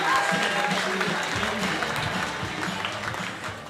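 A comedy club crowd applauding and cheering steadily as a comedian comes on stage, fairly distant and a bit muffled, with some voices mixed into the noise.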